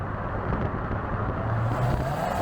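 C7 Corvette Z06 engine burbling at low revs around 2,000 RPM, a deep steady rumble heard from inside the car, with no talking.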